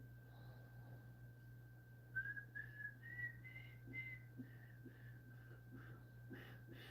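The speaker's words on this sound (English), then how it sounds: "Can you whistle it back to me?" A whistled melody of short rising and falling notes from Shenmue, fairly faint, over a steady low hum and background noise.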